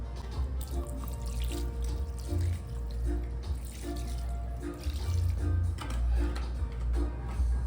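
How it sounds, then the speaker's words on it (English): Orange juice is poured from a container over seasoned ribs in a pan, a continuous trickling splash with small ticking knocks, close and moderately quiet. "Then I'm gonna add my orange juice."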